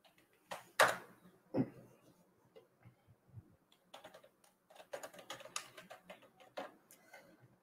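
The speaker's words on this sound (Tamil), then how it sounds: "இப்போ நான் டைப் பண்ணுறேன்." Computer keyboard typing, a quiet close series of irregular clicks and taps, a few sharper keystrokes early, then a busier burst of rapid key presses toward the end.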